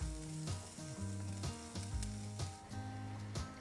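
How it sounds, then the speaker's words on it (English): Diced onion sautés in hot olive oil, a steady close sizzle with soft stirring scrapes and a few clinks of the utensil, no talking. "Once hot, add diced onion and sauté for 3 to 4 minutes."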